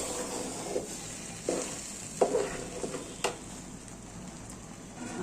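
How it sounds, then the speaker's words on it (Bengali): Rice and red lentils frying in a pot for bhuna khichuri, with a soft steady sizzle broken by a few sharp scrapes and stirring clatters of the spoon, fairly quiet and without any voices. "আমার চাল ডাল ভাজা হয়ে গিয়েছে"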